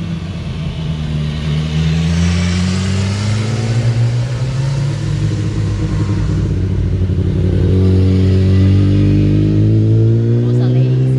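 An adventure motorcycle rounds a corner on a race track, its loud engine note rising and falling through the bend, with voices talking over it.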